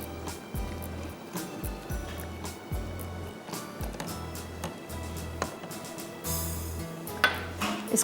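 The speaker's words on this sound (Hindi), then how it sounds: "हम इसको विस्क करते रहेंगे" A whisk clinks and scrapes rhythmically against a pan while almond coffee with rice flour is stirred, quiet repeated strokes in a steady pattern.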